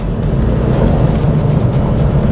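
Toyota Raize compact SUV pulling uphill under hard throttle, a steady, loud engine drone with road and wind rumble heard from inside the cabin, with no talk.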